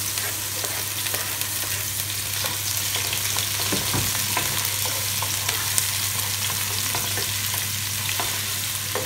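Garlic and onion fry in a pan for a Filipino dish of sayote, Baguio beans and shrimp, giving a loud, steady crackling sizzle with occasional stirring clicks and no talking.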